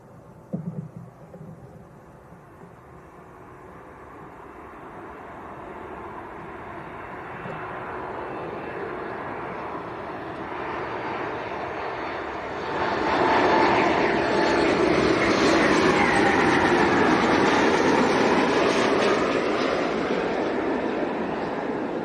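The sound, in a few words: Ryanair airliner approaching Leeds Bradford Airport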